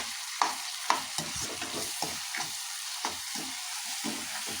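Mushroom masala with softened tomato fries in a pan while a utensil stirs through it, giving soft, repeated scraping strokes over a quiet, steady sizzle, close and alone.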